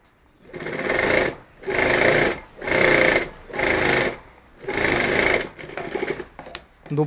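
A sewing machine stitches a cloth bag in five loud, steady runs of about a second each with short pauses between, followed by a few shorter stuttering bursts, close by.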